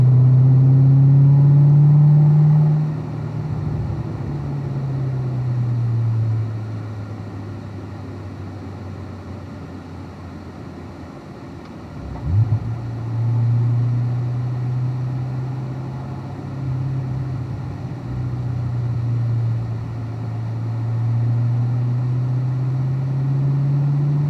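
A car lapping the Ron Fellows race track, its engine droning loud and close through the cabin with repeated rises and falls in pitch as it accelerates and slows through corners, with no talk.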